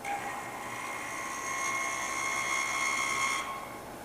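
A milling machine takes conventional cuts through soft aluminum with a 1/4 inch end mill, giving a steady faint high whine with a hissing edge that holds for a few seconds and then cuts off.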